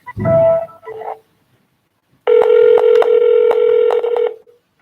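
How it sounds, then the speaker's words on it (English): An auto-dialer starting a cold-calling session: a short burst of touch-tone dialing, a pause, then a loud, steady ringback-like tone broken by small clicks. The sound is close and clear, with no voices. "Once you click the start button on your screen, your dial session will begin."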